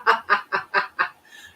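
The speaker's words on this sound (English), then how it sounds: "Oh, your parrot call." A parrot calls out in five quick, loud, evenly spaced honking squawks close by, then a fainter trailing note.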